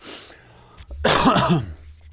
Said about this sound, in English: I'm so sorry for that cough